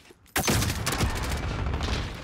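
A rapid burst of pistol gunfire in a video game, loud, close and crackling, sustained for about two seconds after a brief quiet start, with no talking.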